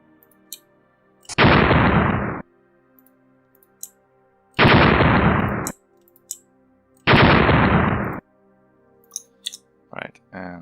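Three loud, broadband video game explosion sound effects, about a second each, separated by quieter gaps and small clicks, with a shorter burst near the end.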